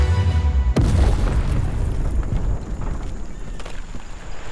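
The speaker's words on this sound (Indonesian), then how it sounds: "markas dari kedua pria tersebut meledak" An animated base blows up in a single sudden, loud boom that gives way to a long, dense roaring rumble of debris, all without any voices.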